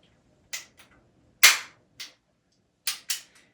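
A percussion cap gun fires several sharp, crisp pops in irregular succession, each cap detonating as the hammer strikes the small powder-filled cap; one louder crack stands out midway, with brief quiet gaps between shots and no voices.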